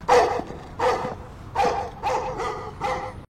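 Dogs bark in a horror TV series, five loud, close barks spaced in an uneven rhythm, each sharp and full with short gaps of quiet between them and no talking.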